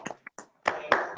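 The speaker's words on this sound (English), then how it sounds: "Applause." Applause from participants on a video call, a few separate bursts of hand clapping, choppy and uneven as if passing through online audio, fairly close.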